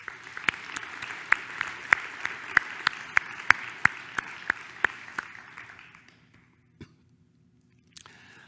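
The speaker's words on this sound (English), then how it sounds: "So another round of applause," A round of applause from the audience at an academic society's presidential address, steady clapping with sharp individual claps standing out, fading to near silence after about six seconds with a couple of isolated sounds later.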